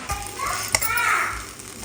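Sabudana khichdi sizzles and is stirred in an iron wok, a steady close frying hiss broken by scraping stirs, with faint voices in the background.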